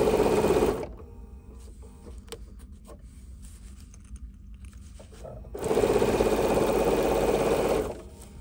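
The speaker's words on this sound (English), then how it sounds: "now we're going to stitch again with our quarter of an inch seam allowance" Sewing machine stitching a quarter-inch seam on a fabric dop bag, two close, loud steady whirring runs separated by a quiet pause of several seconds.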